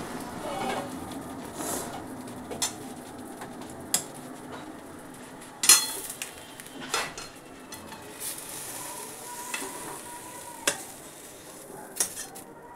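Dry potato curry (alur charchari) being poured and scraped out of a pan, with soft sizzling and scattered metallic clinks and scrapes of a spoon against the pan, close and steady.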